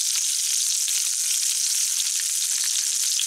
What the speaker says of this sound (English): Now that my bacon's almost finished, I'm gonna go ahead and add my onion so that can cook down.